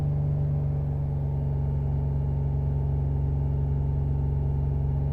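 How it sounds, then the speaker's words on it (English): A 2007 Jaguar X-Type 3.0 V6 idles with a misfire, its steady low drone holding a constant engine hum with slight unevenness, close and continuous with no talk. "And there's a changing in the engine noise as well."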